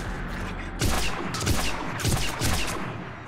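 Bursts of video game gunfire crackle in rapid, fluttering volleys, with several loud broadband shots clustered around the middle of the stretch and a steady hiss underneath.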